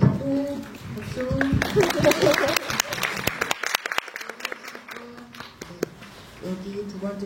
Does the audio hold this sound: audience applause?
yes